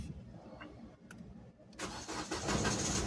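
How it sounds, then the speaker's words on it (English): A Kia Ceed that would not start cranks briefly, then its engine catches and settles into a steady, moderately loud idle close by. "So let's put it on the car, see if the car starts."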